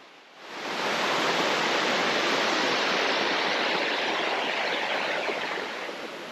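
A steady, loud rush of flowing water fills the whole stretch, a constant broadband roar of a mountain stream close by on the Valley Way trail to Mount Madison, with no voices.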